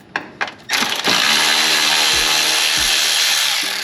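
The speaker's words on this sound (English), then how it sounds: "There's two 10mm bolts, and it'll just lower out the way." On a Lexus IS250/IS350, a tool works the two 10mm bolts holding the underside dust cover, making a few brief clicks and then a loud, steady whirring rattle close by.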